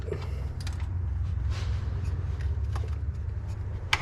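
A wrench cranking down the belt tensioner on a GM 6.0 engine during a water pump replacement, steady mechanical creaking and ratcheting with a low hum underneath and a sharp click near the end, close.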